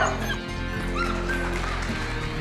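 Guide dog puppies yip and whimper with an occasional bark, several small high cries overlapping close by in a busy indoor setting with a low background hum.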